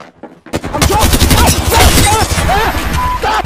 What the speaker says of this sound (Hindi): यहाँ पे आ रही है अब आवाज़ बंदूक की